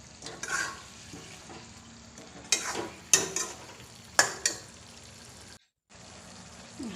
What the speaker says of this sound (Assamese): লৰাই দিম মাংসখিনি